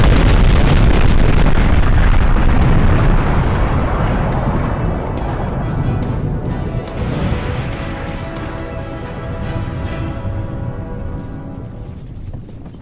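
A building blows up in a huge, loud blast that rumbles on and slowly fades, with crashing debris and a long decaying roar over several seconds.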